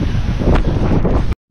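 Strong wind buffets the microphone outdoors in steady, loud rumbling gusts, which cut off abruptly near the end and briefly fall silent.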